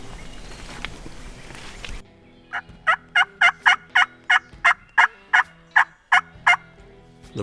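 A wild turkey gobbler gobbles in about a dozen loud, evenly spaced bursts from above on a logging road in the woods, following a stretch of rustling movement.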